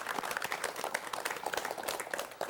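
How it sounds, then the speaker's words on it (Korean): Studio audience clapping to welcome a novelist onto a Korean broadcast talk show, a dense patter of many hands that stays steady and close for a couple of seconds. "박수로 맞이해 주십시오"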